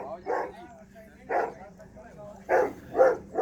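A dog at a farm barks in four separate loud bursts, close by, with pauses between them and someone speaking in the background.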